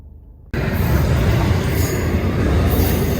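A fast-moving westbound train roars past close by, loud steady rumble of wheels and cars with high squealing overtones, bursting in abruptly after a brief near-silence.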